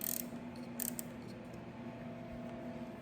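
Ratchet clicking as it loosens an 8 mm bolt on a 2025 Honda CBR1000RR-R Fireblade SP, a few quick close mechanical clicks at the start and again near one second, then quiet workshop hum.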